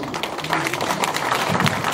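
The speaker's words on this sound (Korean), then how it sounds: "우리 김신혜 양 무대 박수 청해 듣겠습니다" Audience applause for a singer taking the stage, a steady dense patter of many hands clapping throughout, fairly loud and sustained with no pauses.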